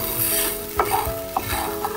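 Salt and sugar stirred into paneer pulao rice in a hot pan, a loud close sizzle with a couple of scraping, clinking stir strokes, no voices.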